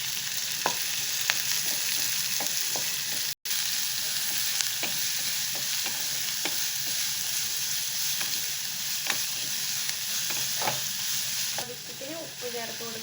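Onion and carrot sizzle steadily in a hot pan, with a constant bed of frying noise and scattered light scrapes and taps from stirring throughout.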